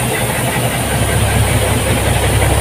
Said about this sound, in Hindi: इंजन बहुत फास्ट है, तो सबसे आगे का इंजन मजा लगता